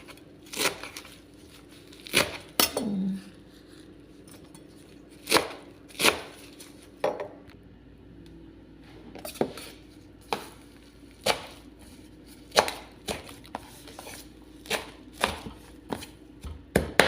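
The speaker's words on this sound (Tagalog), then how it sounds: "Tapos mag-slice ng parsley again para sa toppings ng ating ginawang sauce." A knife chops parsley on a cutting board in a home kitchen, about a dozen sharp crisp cuts in an uneven rhythm, close and fairly loud, with quiet pauses between strokes and no talking.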